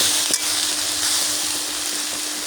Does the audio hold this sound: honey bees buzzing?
no